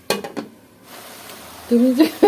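Vegetable bhaji being stir-fried in a pan at home, with a few sharp utensil clanks and scrapes at the start, a quiet stretch, then loud, close scraping and clattering of a spatula against the pan near the end.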